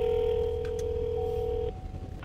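A phone dialing an outgoing call to a local restaurant, with steady electronic tones held near and clear, a short pause, then a fresh tone starting at the end; no one speaks.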